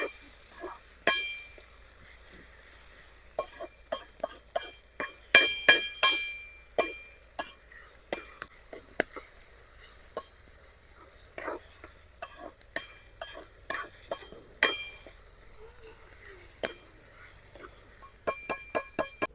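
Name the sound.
stirring chillies, ginger and spices in a pan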